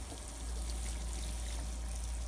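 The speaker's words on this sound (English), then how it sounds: "I got my handy dandy watering device here, and I'm just gonna simply go ahead and water this up" Water poured from a watering device into a potted planting of green onions, a steady soft splashing trickle that swells after a brief start and runs continuously, close and alone.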